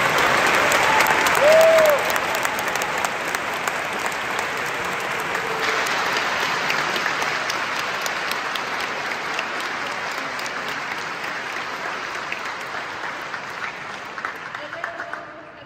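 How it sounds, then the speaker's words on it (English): Audience applause at the closing ceremony of the International Mathematical Olympiad, a dense, steady wash of many hands clapping that swells briefly near the start and then holds evenly before tapering off at the end. "So please give all the girls participating this year a great applause."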